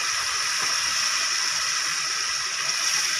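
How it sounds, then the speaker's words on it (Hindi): Water poured into a cooking pan of tomatoes and spices for a cauliflower and chana dal sabzi, a steady bright hiss and rush lasting a few seconds without any talk. "थोड़ा पानी डालेंगे ताकि मसाले अच्छे तरीके से मिक्स हो जाए।"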